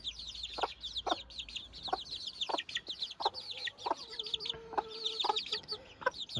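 Young roosters and hens cluck and chirp in quick, repeated bursts, with higher peeping calls running steadily throughout at close range.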